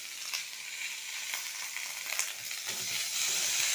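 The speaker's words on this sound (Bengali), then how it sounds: "দিয়ে এবার এটাকে একটু কষিয়ে নেবো ভালো করে।" Ground cumin, coriander and chili powder frying in a pan for a rohu fish curry, a close steady sizzle with scraping stirs and occasional sharper spatters, no voices.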